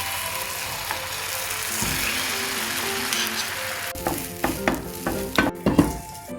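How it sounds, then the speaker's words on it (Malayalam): Egg omelette frying in a pan for Korean street food, a steady soft sizzle for the first several seconds, then a run of sharp scraping and clattering hits from a utensil working the pan near the end. "അപ്പോൾ വൺ സൈഡാണ് കറക്റ്റായിട്ട് ഫ്രൈ ആവേണ്ടത്"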